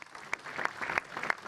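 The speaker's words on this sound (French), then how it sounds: "Vous pouvez les applaudir." Ceremony audience applauding at a 2024 New Year's greetings event in Belvédère, a short burst of dense clapping at moderate distance, a few sharper claps standing out.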